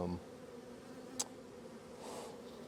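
Honeybees buzz faintly around an opened hive during a February colony inspection, a low continuous hum with a brief sharp click partway through and no talking.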